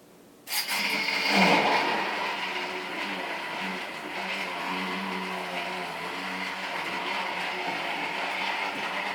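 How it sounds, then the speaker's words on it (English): An electric blender switches on and runs, a sudden loud motor whir that settles into a steady, continuous drone for about nine seconds, close to the listener, with no speech. "this is a blender, and it will do it as smooth."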